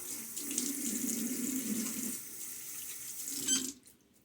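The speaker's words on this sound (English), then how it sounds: "A quick splash." Tap water runs steadily into a sink and splashes as it is scooped onto a face during a wet shave with a Timeless 68 OC razor and Gillette Nacet blade, continuous and close, then stops abruptly near the end.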